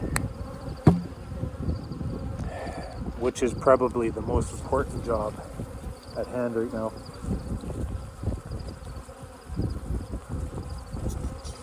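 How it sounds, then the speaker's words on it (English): Honeybees buzzing loudly as they are shaken from hive frames during a check for high mite counts, a close, dense hum with irregular bumps and knocks, while someone talks over it. "I've spent the entire time shaking bees"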